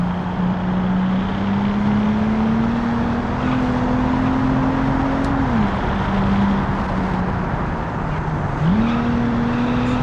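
A V6 car engine in the driving game Automation, in an 80s-era campaign car, drones loudly and climbs steadily in pitch as it accelerates, dropping sharply twice at gear changes before rising again.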